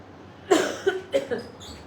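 A person coughs several times in quick succession, close by, with short gaps between the harsh bursts.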